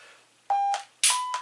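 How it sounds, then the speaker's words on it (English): A shooting practice timer at a range gives two short electronic beeps about half a second apart, each a clear steady tone standing out against quiet surroundings. "The first beep you're using to initiate your repetition."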